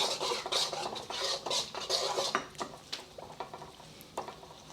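Broccoli and a cornstarch slurry stirred in a hot pan for beef and broccoli stir-fry, with rhythmic scraping strokes over a soft sizzle, close and loud at first, then thinning to scattered scrapes and taps.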